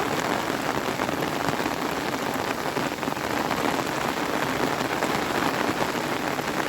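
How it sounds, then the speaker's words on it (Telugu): Heavy afternoon rain pours steadily, a dense, continuous hiss of drops drumming on surfaces with no break. "ఫుల్ వర్షం స్టార్ట్ అయిపోయింది"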